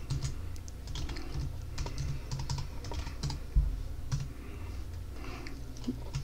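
Someone types a label name on a computer keyboard, a quick irregular run of close, crisp key clicks with brief pauses, and no talking.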